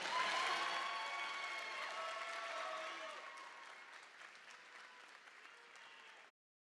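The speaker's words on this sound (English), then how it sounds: "How about another round of applause for this wonderful class of 2028?" Audience applause at a white coat ceremony for the class of 2028: a dense crowd of clapping, loudest at the start and gradually thinning and fading over about six seconds before stopping abruptly.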